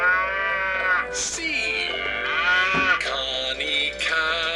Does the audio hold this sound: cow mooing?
yes